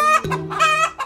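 A chicken clucks in a few close, loud, bright bursts with short gaps between them, heard alone without any talking.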